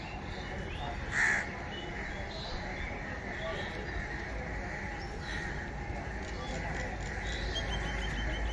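Crow calls from a market area, one clear caw near the start with fainter caws scattered behind, set against steady outdoor background noise and distant activity.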